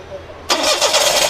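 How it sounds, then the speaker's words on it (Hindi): A 2013 Toyota Vitz with an engine misfire cranks and catches abruptly, the engine bursting to life loud and close and settling into a rough running idle, after quiet with faint background noise. "जी, चलो मारें गाड़ी को।"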